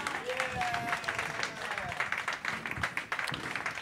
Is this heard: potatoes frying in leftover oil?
no